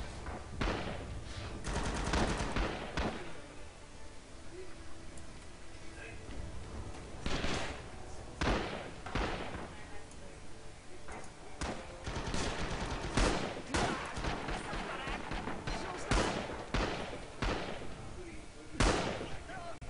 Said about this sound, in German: Alter, was schießt mich ab?